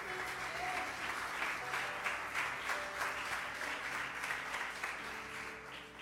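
A church congregation bursts into sustained applause, steady dense clapping from many hands filling the room evenly for the whole stretch, with no voices standing out above it.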